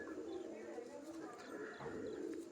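Pigeons coo softly at a home loft, a low continuous murmur of overlapping calls with faint chirps above, steady and fairly quiet throughout.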